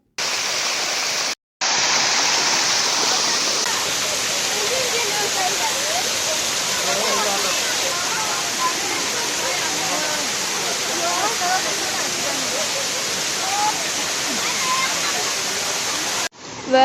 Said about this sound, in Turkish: gəlin, sərin suyun səsinə baxaq